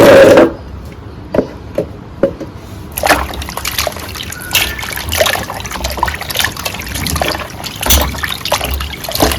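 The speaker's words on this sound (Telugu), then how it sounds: "ముందుగా నీళ్ళల్లో కొంచెం ఉప్పు వేసుకొని కాకరకాయలు వేసేసి కడుక్కుందాం." Bitter gourds being washed in salted water, with sloshing, trickling and the wet knock of gourds rubbing together, close and fairly loud throughout after a quiet start with a few small splashes.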